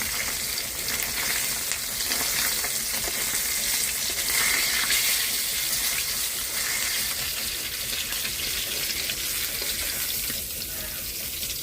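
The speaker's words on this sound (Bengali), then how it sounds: "আমার মাছটা ভাজা হয়ে গেছে" Fish frying in hot oil gives a steady, dense sizzle that holds for the whole stretch, close and fairly loud, with faint watery crackle running through it and no voices.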